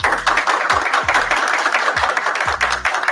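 A crowd applauds at a police officer swearing-in ceremony in Troy, New York, a steady patter of many hands clapping close by with no voices over it.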